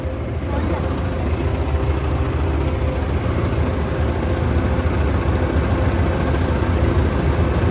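A heavy tractor engine rumbles steadily nearby, a constant low drone that runs the whole time without a break.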